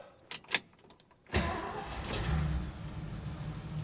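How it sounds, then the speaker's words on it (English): A car engine starts with a sudden loud rise after a few faint clicks and knocks, then settles into a steady, close idle rumble that carries on to the end. "All right, it's idling, so that's something."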